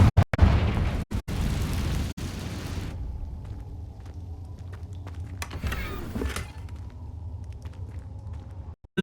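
Confringo fire spell exploding in Hogwarts Legacy, a loud booming blast with sharp bursts up front, then a rumbling tail fading under quieter game ambience.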